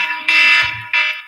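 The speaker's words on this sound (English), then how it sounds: "See, that's my alarm." An alarm rings in two loud electronic bursts, a long sustained tone followed by a shorter one after a brief gap, with no talking.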